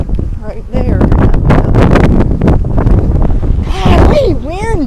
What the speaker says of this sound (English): Hey, wind!